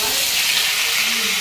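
Two pieces of fish fry in hot oil in a wok, giving a steady, close, bright sizzling hiss that carries on without a break.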